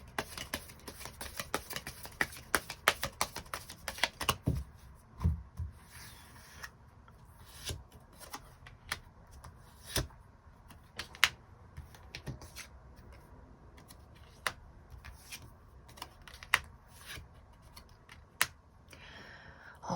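Tarot cards are shuffled and handled during a love-fortune reading, giving a long run of crisp, irregular card clicks and riffles, close and moderately loud, with no voice over them.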